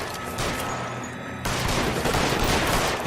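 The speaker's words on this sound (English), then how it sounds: "they're already shooting" Dense video-game gunfire in LA Noire, a continuous barrage of overlapping shots that swells louder halfway through and keeps up without a pause.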